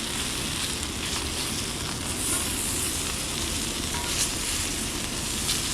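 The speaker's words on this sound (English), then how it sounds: "Help sear it off a little bit better." Blackened salmon sears in a hot pan, giving a dense, continuous close sizzle and hiss that holds steady throughout without talk.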